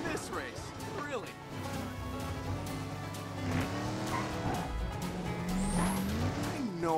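Race cars in the Cars 3 Driven to Win video game at Thunder Hollow, engines roaring with squealing, skidding tires and revving pitch sweeps, loud and continuous, with a voice talking over the racing.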